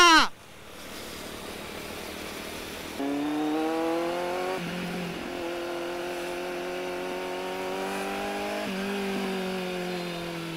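A Kawasaki Z800 superbike engine revs hard in first gear, its tone climbing in rising steps with shifts in pitch, loud and close throughout after a short opening whine.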